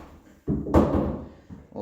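A bi-fold door is pushed back into its track with a sudden rolling thump and rattling slide, followed by a short scrape near the end, close and fairly loud with no talking.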